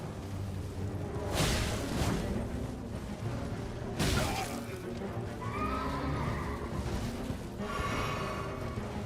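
A huge horse in the video game Elden Ring neighs in several loud, drawn-out whinnies, with whooshing combat swipes and hoof clatter around them.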